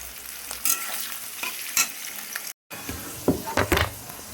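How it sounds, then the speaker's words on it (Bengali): Sliced onions fry in oil with two dry red chillies, cumin and two cardamom pods, with a soft sizzle under repeated spatula scrapes and stirring bursts, broken by a brief silent gap. "পেঁয়াজগুলো একটু লাল লাল করে ভাজবো"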